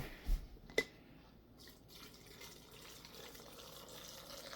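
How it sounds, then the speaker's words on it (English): Hot water is poured into jars of green beans for canning, with a couple of sharp drips and clinks at the start and then a soft, steady trickle of filling liquid close by. "So I'm going to put the water in here first, and then I'm going to put the salt in"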